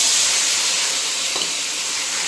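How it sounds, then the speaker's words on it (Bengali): Bay leaf, cumin seeds and green chili sizzle in hot oil in a pan, a loud, steady hiss filling the moment without any speech. "তেজপাতা আর জিরে ফোড়ন দিয়ে দিলাম। এবারে দিয়ে দেবো কাঁচা লঙ্কা।"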